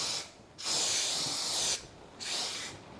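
Spray glue for wallpaper hisses from a can in bursts, first a short puff and then a long spray of over a second, followed by another short burst, loud and close with no voices.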